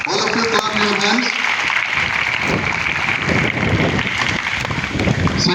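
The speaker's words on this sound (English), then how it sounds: "Arjun Yadav, all of you clap your hands." A school audience at a 75th Independence Day celebration claps for a prize winner, with a steady broadband patter of many hands after a brief spoken announcement.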